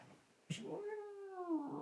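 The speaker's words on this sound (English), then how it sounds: "One cheeky, cranky kitty." A single drawn-out cat meow, whiny and rising then falling, heard up close after a brief thump, with faint background noise.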